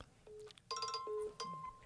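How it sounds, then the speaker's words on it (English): A mobile phone rings faintly in a podcast studio, a few short electronic tone chimes in an irregular pattern against quiet room noise. "Is that your phone?"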